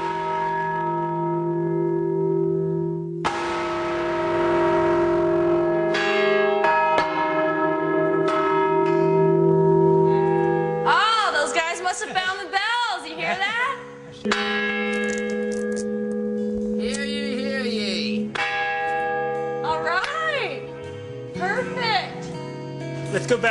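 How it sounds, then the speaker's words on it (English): Large church bells in Buffalo, New York, struck hard with hammers, ring loudly and close, with struck tones overlapping into a rich, swelling peal. Voices are heard faintly beneath the ringing. "I'd never been able to ring bells like that."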